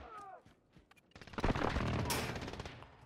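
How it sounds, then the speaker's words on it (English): Automatic sentry gun opening fire in a military shooter video game: a sudden loud, sustained burst of rapid gunfire, preceded by brief quieter effects and electronic sounds. "Enemy sentry gun active."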